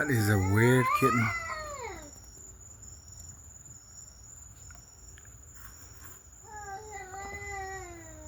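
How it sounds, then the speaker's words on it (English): A cat caterwauls in long, wavering, child-like wails, loud at first and then fading, returning more faintly near the end over a steady background chirp of crickets. "That's a cat, people, not a human."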